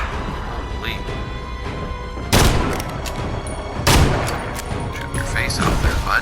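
Gunfire in the video game Evil Dead The Game: two loud, sharp blasts a second and a half apart over a steady game background, with a lighter burst of shots near the end.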